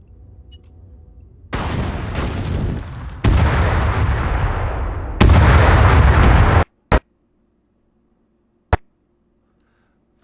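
In-game explosion on the planet Desolo in Astroneer: a loud, sustained roaring blast swells in several surges over about five seconds, cuts off abruptly, then two sharp isolated bangs follow in near silence.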